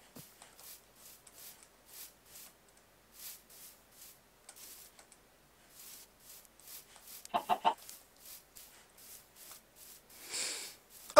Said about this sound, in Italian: Buongiorno signora gallina.